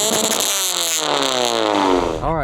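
Engine of a modded 2007 Toyota Camry LE heard from inside the cabin, loud and continuous, with steady harmonic drone rising gradually in pitch as it revs, then a brief dip and wobble near the end.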